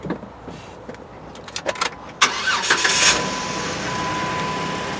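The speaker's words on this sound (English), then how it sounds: "The engine, it's not super quiet, but it's not super loud either" A 2009 Jeep Wrangler X cranks with a few clicks and knocks, fires up, and settles into a steady, moderate idle that carries on to the end.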